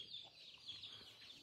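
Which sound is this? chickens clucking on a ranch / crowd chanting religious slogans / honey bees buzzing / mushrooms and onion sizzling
chickens clucking on a ranch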